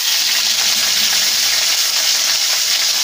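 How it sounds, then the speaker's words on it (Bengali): Chopped onion hits hot oil in a pan and fries with a loud, continuous hiss and crackle that stays strong and even throughout. "এবার দিয়ে দিচ্ছি কুচিয়ে রাখা পেঁয়াজ"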